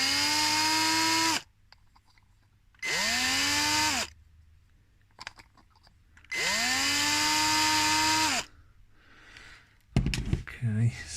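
An electric drill bores holes while parts for an InMoov robot shoulder are built. Three sustained bursts of one to two seconds each spin up to a steady close whine, separated by quiet gaps, followed by a brief clatter at the end.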